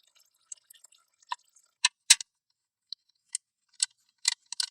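Motor oil drips from the drain hole of a 2010-2015 Toyota Prius during an oil change, a sparse, irregular series of sharp little ticks and splats, close and quiet with silence between drops.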